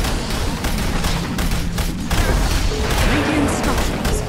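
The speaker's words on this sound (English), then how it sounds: "Middle tower is under attack." An attack on the middle tower in Dota 2 brings dense overlapping impacts, bursts and crashes of combat over busy game sound, with a voice heard among them.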